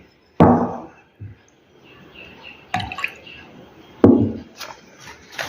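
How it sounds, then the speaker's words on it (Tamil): Lime (calcium hydroxide) solution poured and filtered, giving a few sharp splashing drips at spaced intervals with quieter trickling between. "இந்த சுண்ணாம்பு கரைசலை இதில் ஊற்றுறேன் என்ன ஆகுதுன்னு பார்க்கணும்"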